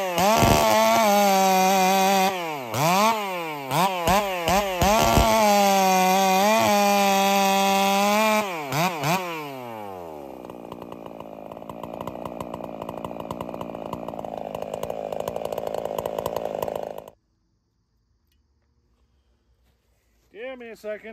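A Husqvarna 372 clone chainsaw fitted with C83 chain on an 8-pin sprocket, set up for racing, revs loudly and rises and falls in pitch, then bogs into a steady cut through wood before stopping abruptly. It briefly restarts at the end.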